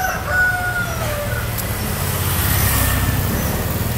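Chickens and a rooster crowing among caged poultry at a busy Bangkok market, the calls rising over a steady wash of traffic and crowd noise.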